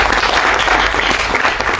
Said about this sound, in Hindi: चलिए, मिर्ची सेठ के लिए जोरदार तालियां।